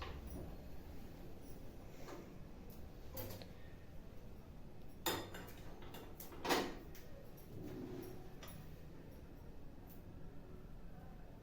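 Two brief, light clinks of cups or dishes ring out in a quiet home kitchen as freshly made tea is served, each separated by a few seconds over soft background noise.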